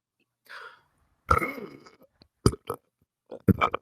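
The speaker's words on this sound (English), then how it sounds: "I did my burp afterwards. Did you not hear it? I can produce another if you'd like." A man lets out a loud, deliberate burp up close, drawn out in stages, followed by a few short vocal bursts.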